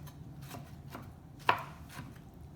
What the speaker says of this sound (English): We're just going to go through giving them a nice chop until there's no big gigantic clumps.